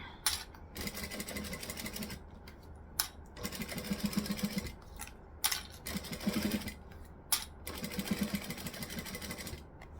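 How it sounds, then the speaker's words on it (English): A sewing machine stitches a jelly vinyl pouch in several steady buzzing bursts with short pauses between them, close and fairly quiet, with no talking. "the whole stitching is just one continuous line"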